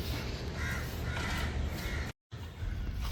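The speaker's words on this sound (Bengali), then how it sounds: "এখানে প্রচুর খুব সুন্দর পাখি ডাকছে।" Crows caw repeatedly at moderate distance in Elliot Park, Kolkata, their harsh calls carrying over a steady outdoor background with a short dropout near the end.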